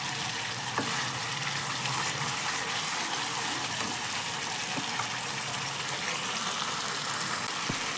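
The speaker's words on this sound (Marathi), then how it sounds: "आता हे मिक्सरचं भांडं धुवून आणि यातच ओतायचे." Water used to rinse a mixer jar is poured into a pan of Marathi dal-ball curry, making a steady, even rushing hiss that runs throughout with faint clinks and no speech.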